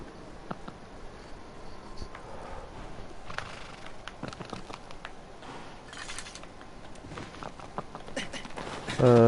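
Horse hooves clip-clopping in the video game Shadow of the Colossus, a steady run of soft, close hoof steps with game ambience, ending in a louder burst.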